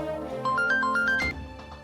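A phone ringtone plays a short, bright melodic tune of rising and falling notes, loud and close, in a domestic scene from a Marathi TV serial.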